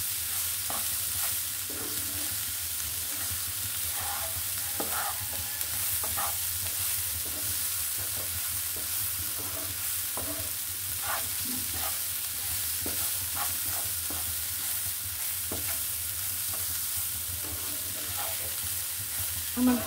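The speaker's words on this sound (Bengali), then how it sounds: "দেখুন এই যে ফুটে আসছে, ভাজাটা হয়ে গেছে" Dal being fried for tempering in a pan, a steady crackling sizzle with occasional stirring scrapes, moderately loud and continuous throughout with no talking.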